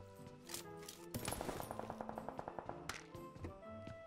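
Rapid automatic gunfire from a PUBG Mobile match, a steady burst of sharp repeated shots with a few scattered single cracks before and after, fairly close and alone with no talk.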